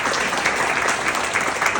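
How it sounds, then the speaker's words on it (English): A brief burst of conference audience applause at a liver health institute event, many hands clapping steadily at moderate loudness with no talking. "you all should give a round of applause, not only for Donna, but for yourselves for being here today"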